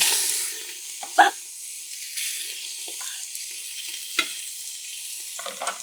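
Turkey giblets cooking in a pan on Thanksgiving, a faint continuous sizzle with a few sharp knocks and scrapes of stirring, heard close with no talk.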